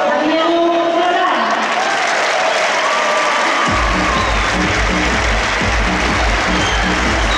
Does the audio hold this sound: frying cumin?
no